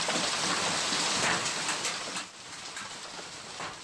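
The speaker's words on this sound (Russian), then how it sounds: "В Кемеровской области сегодня, как сообщают очевидцы, прошел очень крупный град." Very large hail pours down in the Kemerovo region in a loud, steady, hissing clatter that eases slightly toward the end.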